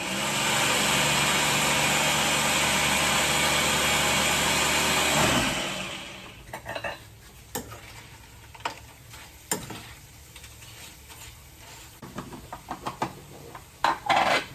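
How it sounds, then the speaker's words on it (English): A blender roars steadily at high speed, puréeing softened dried chilies for chilaquiles rojos, then cuts off after about five seconds, leaving quiet kitchen clatter and scattered knocks of the jar and utensils. "we will blend only the dried chilies first, because we're going to have to strain them"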